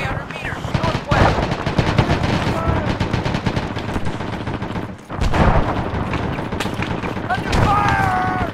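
Sustained gunfire in Arma 3, with dense rapid bursts of rifle and machine-gun shots crackling almost nonstop, a brief lull midway before the barrage resumes, mixed with clipped radio-style voice callouts.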